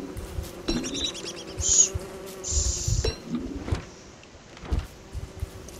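Killer bees swarm and buzz in the Don't Starve video game, a close, wavering drone that rises and falls with a few sharper whines, with no talking.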